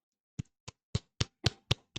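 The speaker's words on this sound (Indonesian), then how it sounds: "Tepuk tangan juga" About seven sharp, separate hand claps ring out close and clear on an otherwise silent talk-show set. They come at a roughly steady pace of about one every quarter second.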